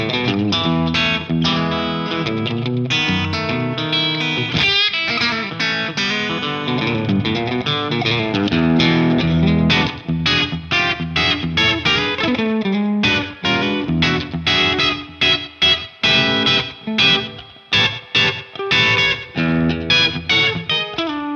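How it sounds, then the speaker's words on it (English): Electric guitar through a Friedman IR-X tube preamp playing a busy riff with a washed, echoing tone from reverb and repeating delay, steady and loud throughout. "so a little bit of reverb and delay"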